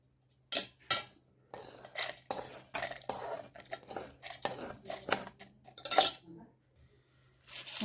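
A spoon scrapes and clinks as a cooled ginger chutney tempering with oil is transferred into a clean, dry mixer grinder jar, giving a series of close, uneven metallic taps and scrapes with brief pauses.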